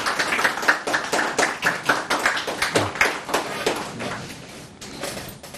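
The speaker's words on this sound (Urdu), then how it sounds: "دیگر جو میرے دوست بیٹھے ہیں وہ حوصلہ افزائی کے لیے تالیاں بجا سکتے ہیں" An audience of children and adults claps at a prize assembly, a brisk, fairly uneven rhythm of near claps that thins and fades toward the close.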